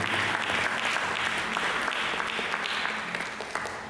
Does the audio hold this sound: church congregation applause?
yes